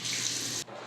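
A motion-sensor faucet runs steadily as hands are rinsed, a close, hissing stream that cuts off abruptly near the end.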